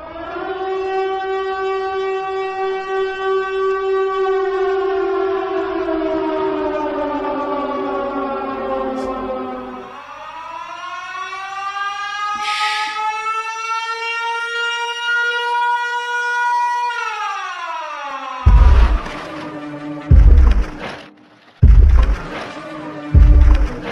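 A loud, eerie Siren Head monster siren in a video game wails in long rising and falling tones, then breaks into several short harsh blasts near the end.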